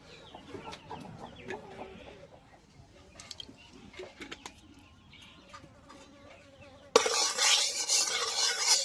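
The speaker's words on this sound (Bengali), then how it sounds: "প্রথমে চিংড়ি মাছগুলো ভেজে নেব।" Small prawns, rubbed with salt and turmeric, drop into hot mustard oil in a kadai over a stove, and a sudden loud, steady sizzle bursts in after quieter kitchen clatter and stirring.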